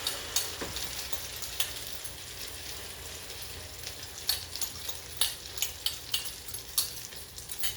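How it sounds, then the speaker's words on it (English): Omelette frying in a hot oiled pan, a steady soft sizzle with intermittent crackles and pops across the whole stretch, fairly quiet and close, no talk. "Shake your oil around. And the omelette is going down."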